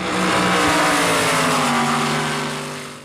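Unlimited outboard drag boats, OMC Evinrude against Mercury, roar down a quarter-mile water course with loud, sustained high-revving engine whine that holds steady and then tapers slightly at the end.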